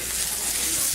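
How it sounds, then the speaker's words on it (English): Brussels sprouts being stirred and shaken in a hot pan give off a loud, continuous hissing sizzle with no break, close and dense. "we're going to add the sprouts back into the dish, to the pan, and give that a stir, a shaking here."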